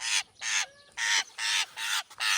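A Eurasian jay fledgling begs a magpie for food with a run of harsh, raspy calls, six loud bursts about half a second each separated by brief gaps, close and clear with no talk.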